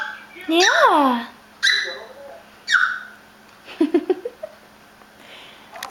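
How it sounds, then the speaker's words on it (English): A puppy gives a few high, rising yips and whimpery barks, first drawn out and then in short choppy bursts, heard up close indoors with people talking nearby. "Are you barking?"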